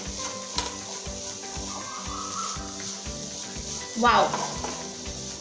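Vegetables stirred in a sizzling pan with pav bhaji masala, a steady close frying hiss with a brief scraping stir, and a short exclamation from a voice.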